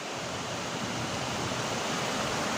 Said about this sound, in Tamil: சரியான காற்று, நல்ல மழை பேஞ்சிட்டு இருக்கு